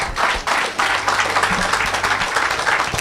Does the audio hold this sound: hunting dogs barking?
no